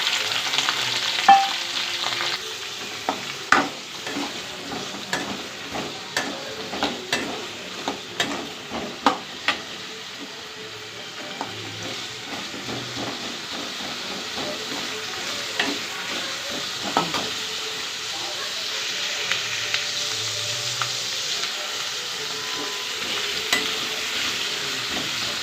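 Dried red chilies, ginger and onion fry in oil for a drumstick seed chutney, a constant close sizzle broken by repeated scraping clicks of a stirring spoon and occasional louder crackles.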